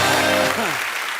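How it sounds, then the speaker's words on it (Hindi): A studio audience on The Kapil Sharma Show, a Hindi TV comedy talk show, applauds steadily and loudly, while a sustained, gliding vocal tone rides over the clapping in the first half before it trails off. "जोरदार तालियां हो जाएगा।"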